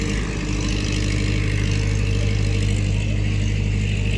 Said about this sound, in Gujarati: ટ્રેક્ટર જેસીબી ધડબડાટી હમણાં.